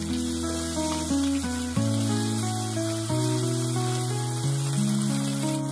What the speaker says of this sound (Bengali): আজকে মাছটা আমি যেভাবে ফ্রাই করব পেঁয়াজ রসুন দিয়ে